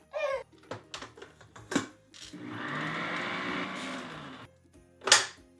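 Electric mixer beating gingerbread dough in a bowl, a steady whirring run of about two seconds between scattered knocks and clunks, fairly quiet and close.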